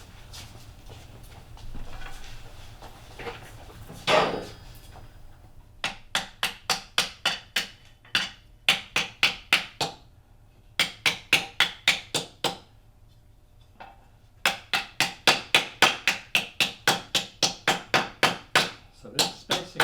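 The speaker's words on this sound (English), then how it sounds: "Just going to move over to the stump and use a hammer to flatten this." Hammer flattening a copper sheet on a wooden stump, rapid bursts of sharp metallic blows in repeated runs with short pauses between, close and loud.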